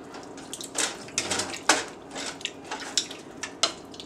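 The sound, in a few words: pork and beef meat stuffing being mixed in a cooking pan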